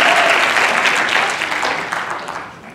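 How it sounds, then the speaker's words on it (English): A convention panel audience on a fan cruise gives a round of applause, loud at first and gradually tapering off. "So I think we deserve a round of applause for that."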